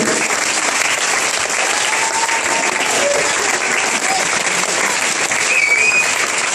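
Audience applause at a French stage show, loud, dense and sustained clapping from a crowd for several seconds with a faint voice underneath.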